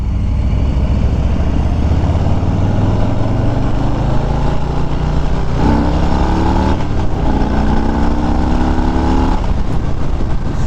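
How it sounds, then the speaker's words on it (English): A 2021 Harley-Davidson Street Bob 114 motorcycle with a Milwaukee-Eight engine accelerates hard under heavy throttle, a loud continuous engine roar rising in pitch through the gears, with a brief dip at each shift. "So I'm really giving it throttle there to get to the speed, up to speed fast like that."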